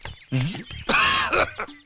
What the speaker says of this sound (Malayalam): നിങ്ങൾക്ക് ചുമയുണ്ടോ?